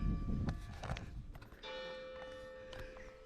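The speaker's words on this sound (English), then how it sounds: "Church bells." Several church bell strikes ring out with lingering tones, a resonant peal heard from a moderate distance over faint background noise.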